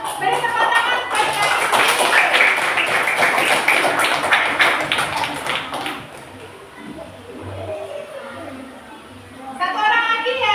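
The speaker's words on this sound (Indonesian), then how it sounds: "Beri tepuk tangan buat" Children in a classroom clap together in a steady, rapid burst of applause lasting several seconds, then it fades to murmuring voices before a short new round of clapping starts.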